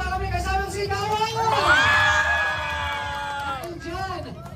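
A crowd at a village fiesta shouting and cheering, loud and close, with one rising whooping yell riding over the mass of voices before it settles back into general clamour.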